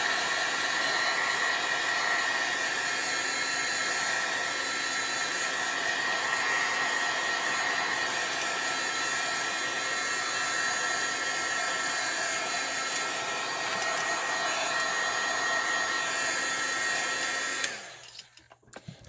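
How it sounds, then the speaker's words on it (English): A heat gun blows steadily to heat-set stamped ink, a loud continuous whooshing roar that runs unbroken before cutting off near the end. "I'm going to heat set both of them real quick"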